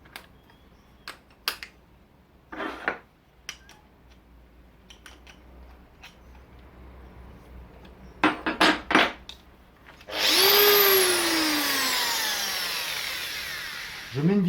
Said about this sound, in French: c'est une roue à lamelle de 80 et on va finir le rayon